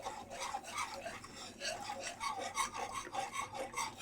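A whisk scraping and rasping rhythmically in a pot as milk is stirred into broccoli cheddar soup, with repeated quick strokes at close range and no talking.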